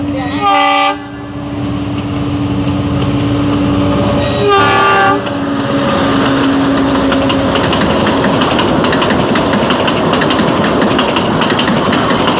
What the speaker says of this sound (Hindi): और अभी ट्रेन आने वाली है यहाँ से